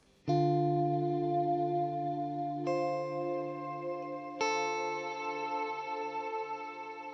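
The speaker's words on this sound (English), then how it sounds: "this is how the reverb sounds by itself." Three electric guitar chords are struck one after another through a Boss ES-8 pedalboard reverb, each ringing out in a long, shimmering reverb tail that blends into the next.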